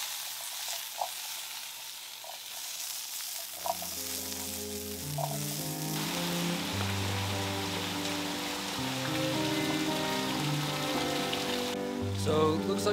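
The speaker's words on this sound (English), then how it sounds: "it's always very relaxing to hear the rain" Steady rain falls in a soft, continuous hiss, with music playing over it for most of the stretch.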